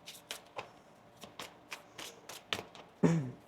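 A deck of tarot cards being shuffled by hand, a string of quick riffling bursts close by at a steady rhythm, ending in a louder slap as the deck is squared.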